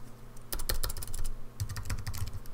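A terminal command is typed on a computer keyboard connected to a Raspberry Pi, two quick bursts of close, crisp keystroke clicks separated by a short pause.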